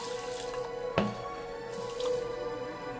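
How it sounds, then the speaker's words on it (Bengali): Rice and lentils being washed together in water in a home kitchen: a single splashy slosh and drip near the middle, then faint trickling and light swirling over a steady low background hum. "এই চাল আর ডালটাকে ধুয়ে"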